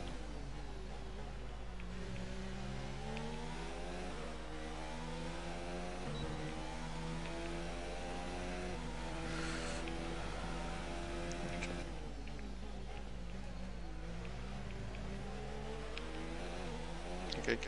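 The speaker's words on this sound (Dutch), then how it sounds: "Kijk, hier die kar en motor hoor." Formula 1 race car engine from the F1 2019 video game, a steady high-pitched whine with rising and falling pitch sweeps as it revs through gears, continuous and fairly close, with no talk over it.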